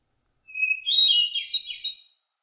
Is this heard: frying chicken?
no